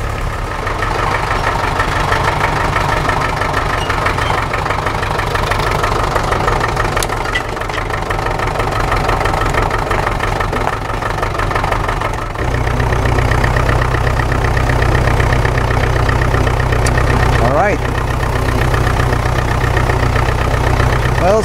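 Old engine idling steadily after repairs for damage, a continuous low rumble with a slight knock, close and loud, the idle dropping into a deeper, heavier tone partway through.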